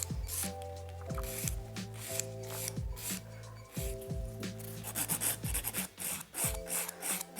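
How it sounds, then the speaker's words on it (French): Gel nail top surface being filed by hand, a close, steady scratchy rasping in repeated strokes, with a faint tonal hum running underneath throughout. "Donc on va limer tout le dessus pour préparer la base."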